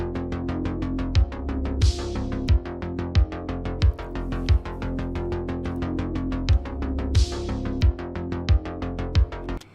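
A tape-recorded 1980s synth bass sequence plays a fast, steady pulsing line while bass drum hits duck it in a regular rhythm, with cymbal-like washes recurring about every five seconds.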